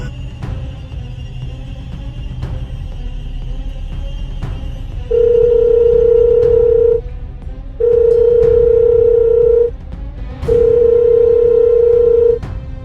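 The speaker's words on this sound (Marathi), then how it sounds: "अरे तो फोन उचलत नाही." An outgoing phone call rings unanswered: three long, steady ringback tones, each about two seconds with gaps between, over a faint background with occasional clicks.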